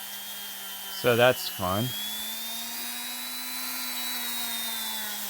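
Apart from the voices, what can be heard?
sanding a 3D printed Lego Bionicle mask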